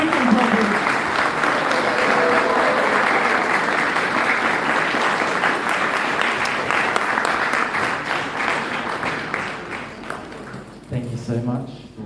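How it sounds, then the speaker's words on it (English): Sustained applause fills a hall at a Gaur Purnima celebration, dense and loud clapping from a large audience that gradually thins toward the end, with a voice breaking in at the close. "can we have one more really, really big round of applause for His Grace Nitai Kirtan Prabhu."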